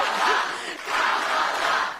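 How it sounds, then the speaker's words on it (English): A large crowd at a political rally chants in two loud rhythmic bursts, voices merging into a roaring, rising-and-falling cry. "she has the crowd do like certain chants"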